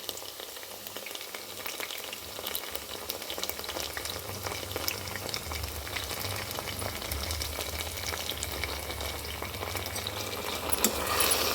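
Ginger garlic paste sizzles in hot oil in a pan for veg biryani, a steady close crackling fry with a low background hum throughout and no talking.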